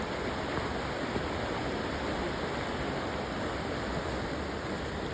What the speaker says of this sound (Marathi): बघा बघा भावांनो, बघा नदी बघा.